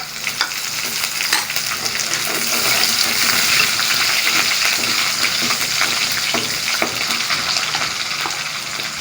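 Green chillies sizzle loudly in a hot pan of ginger-garlic masala for mash daal while a spoon stirs steadily, scraping and clinking through a constant close frying hiss with no voices.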